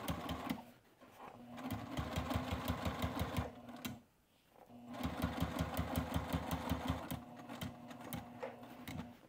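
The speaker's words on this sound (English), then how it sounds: "as I'm sewing, I stay within those little landmarks" A sewing machine stitches along the edges of an apron in fast, even mechanical bursts, running steadily, pausing briefly midway, then resuming at the same rapid rhythm.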